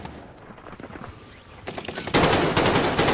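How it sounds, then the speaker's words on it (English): A light machine gun firing in Call of Duty Warzone, starting with scattered distant shots and then breaking into a loud, sustained rapid burst of automatic fire that fills the last half. "And it's a light machine gun."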